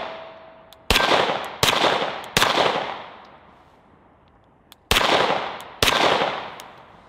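Rifle shots at an outdoor shooting range, five loud, sharp reports spaced a second or so apart with a pause in the middle, each followed by a fading echo.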